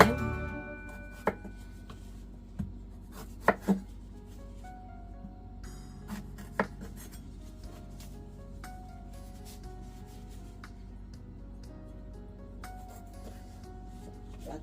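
A knife scraping the skin off a washed piece of fresh ginger, a soft steady rasp broken by a few sharp taps of the blade against a board.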